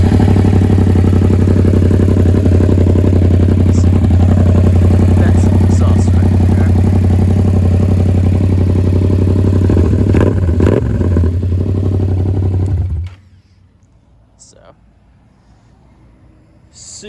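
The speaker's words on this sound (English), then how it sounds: "This one does have an aftermarket exhaust on it, so it is going to sound a little bit different than stock." A 2018 Yamaha MT-07 motorcycle with an aftermarket exhaust idling loud and steady at close range with a deep, even rumble for about twelve seconds, then cut off, leaving near silence.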